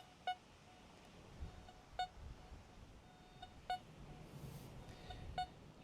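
CScope CS2MX Mk2 metal detector signalling a target hit, giving four short, faint beeps spaced roughly every second and a half over quiet background noise.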